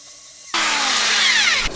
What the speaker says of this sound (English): clean the surrounding areas with a wire wheel